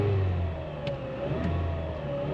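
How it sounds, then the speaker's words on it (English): Rebuilt engine in a 2005-2010 Chevy Cobalt held at a steady fast idle during its first run after installation, a loud continuous mid-pitched drone with slight rises and dips in revs and no talking. "for the first 15 to 20 minutes, we want to rev it like this"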